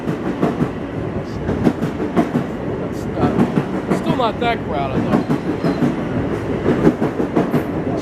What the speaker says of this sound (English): this is another Babylon train